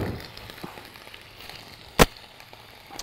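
Cooked poultry flambéed with marc de Bourgogne in a pan, soft steady sizzling with a faint crackle, broken by one sharp, loud burst partway through.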